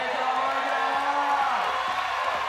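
Spectators at an IFSC World Cup men's lead climbing final in Briançon cheer and whoop as a steady roar, with a commentator talking over the crowd.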